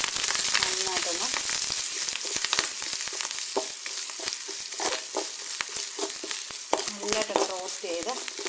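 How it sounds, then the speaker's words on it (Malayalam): Grated coconut and curry leaves roast in a pan for jackfruit erissery, with a continuous close sizzle and crackle and repeated stirring scrapes. A voice murmurs faintly at moments. "നല്ലതായിട്ടൊന്ന് റോസ്റ്റ് ചെയ്ത് ഇതിനെ നമുക്കെടുത്തിട്ട് വരാം."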